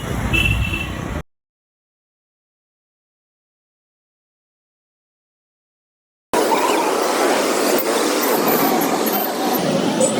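A suburban train arrives at Ghatkopar station in Mumbai with a loud, rumbling roar heard up close. The sound cuts out completely for several seconds, then the rumble returns.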